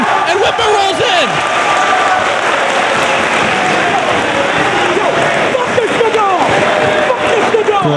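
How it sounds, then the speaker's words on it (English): A wrestling arena crowd at a Ring of Honor event applauds steadily as Whitmer rolls into the ring. The clapping is loud and continuous, and commentators talk over it. "The crowd showing their appreciation for Whitmer when he rolled in"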